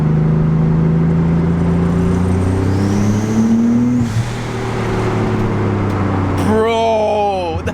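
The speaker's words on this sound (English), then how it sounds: "We go through with the 300 with the new exhaust." Twin-turbo Nissan 300ZX with a new exhaust drives through an underpass: a loud, close engine drone with rising and falling pitch that echoes off the walls, then a sharp rev near the end.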